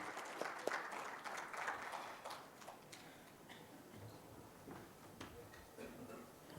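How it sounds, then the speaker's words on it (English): Audience applause at a presentation event, fairly quiet and distant, with a steady patter of clapping that gradually thins out over several seconds, faint voices underneath. "Big round of applause, ladies and gentlemen."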